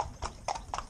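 Hooves of working horses in tandem harness clopping in a steady rhythm, four distinct close hoofbeats within about a second.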